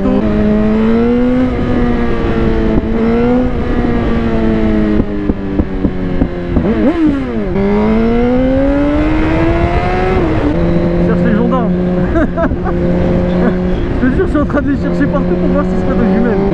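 A 2020 Suzuki GSX-R 1000 R sport motorcycle, remapped to 212 hp, revs and climbs through gears, its pitch rising then dropping between shifts, loud and close, with a rider talking over it.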